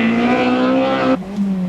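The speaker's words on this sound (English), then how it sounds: "Bill Connolly is initially very cautious in the BP-backed BMW" A BP-backed BMW rally car driving a stage of the 1991 Galway International Rally, its engine holding a steady high-pitched tone before dropping sharply as it passes or lifts off.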